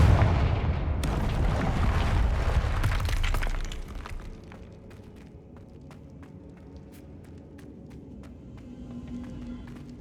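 Blasting spell explosions in a fantasy video game: a loud roaring burst with crashing debris for about four seconds, then a quieter stretch of scattered crackles and small impacts.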